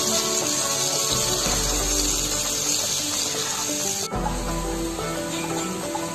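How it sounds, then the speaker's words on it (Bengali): Boiled elephant yam pieces fry in oil over a medium flame, giving a steady, even hiss that continues throughout beneath background music. "এবারে সেদ্ধ ওলগুলো দিয়ে দিচ্ছি ওলগুলো এক থেকে দু মিনিট মিডিয়াম ফ্লেমে ভালো করে ভেজে নেব"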